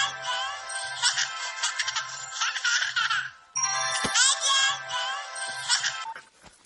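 A mobile phone ringtone plays loudly and close in bursts of bright melodic tones, pausing briefly midway before resuming, with no one speaking.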